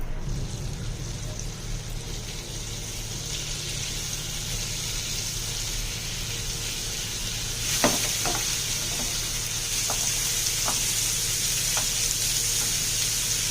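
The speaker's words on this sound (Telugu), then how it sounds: "పీసెస్ అన్నీ ఫ్రై చేసుకుందాము. బటర్ వేస్తున్నాను. నూనెలో ఫ్రై చేయొద్దు, బటర్లోనే చేయాలి." Chicken pieces frying in butter for butter chicken, a steady dense sizzle throughout with a few sharp utensil clicks and taps in the second half, with no speech.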